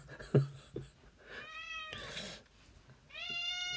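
A cat meows indoors during a live broadcast, with two drawn-out, close meows separated by a pause, after a few soft thumps near the start.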